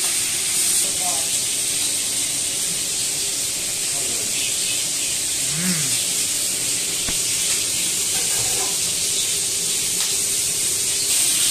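Meat frying in oil in a paella pan while being turned, a continuous hissing sizzle with a few faint voices and light scraping sounds over it.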